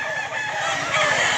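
Roosters crow and chickens cluck at a busy poultry market in Mantalungon, Cebu, the loud, close calls filling the whole moment without pause.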